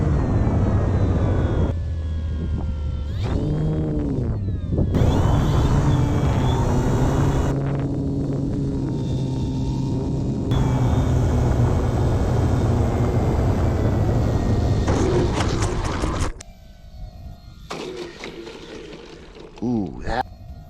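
A radio-controlled model airplane comes in to land in cold weather, its steady, buzzing motor drone holding for a long stretch before dropping away abruptly near the end, while someone talks over it.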